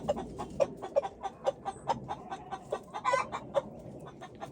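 A lavender Orpington flock clucks in a busy yard while being fed wild mixed greens, short sharp clucks tumbling out in quick irregular bursts, fairly close, with no one speaking.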